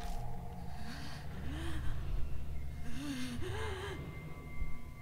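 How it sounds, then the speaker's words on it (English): Strained, pained breathing in the video game Spirit Hunter: NG: several rising and falling gasping breaths, some of them wavering, over a low steady drone. "I hear what sounds like pained breathing."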